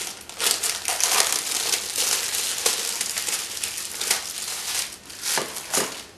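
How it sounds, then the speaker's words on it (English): Shrink wrap being cut and peeled off a box of tea, close crinkling and crackling plastic in uneven bursts, with no voices. "I'm just going to cut this, and off it comes. Shrink wrap is tough."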